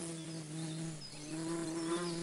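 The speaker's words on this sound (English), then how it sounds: "A bee?" Bee buzzing nearby, a steady close drone with slight wavering pitch lasting about two seconds, alone without talk.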